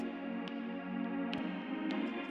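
A soft synth tone sustains with a few bright plucked notes picked out over it, quiet and steady.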